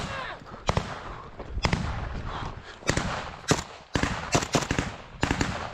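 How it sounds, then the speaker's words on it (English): Gunfire in a firefight in the Ukraine war, with repeated sharp shots in irregular bursts over a noisy battlefield backdrop while troops retreat and fire. "We now see them retreating and firing as the rest of their squad moves back."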